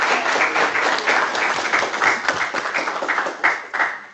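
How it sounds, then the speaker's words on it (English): An audience applauds a panel of alumni speakers with a fairly close burst of many hands clapping, a few sharper individual claps standing out near the end. "And to our panelists, let's give them a round of applause."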